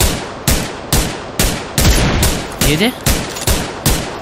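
Steady, evenly spaced gunshots in the video game PUBG Lite, about ten loud close reports roughly every half second, with a voice briefly talking over them.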